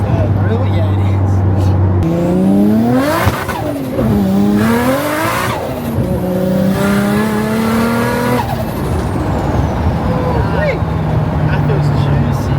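A tiny turbocharged car revs hard through several gear changes, its engine note rising repeatedly then dropping at each shift, loud and close, with tire noise underneath.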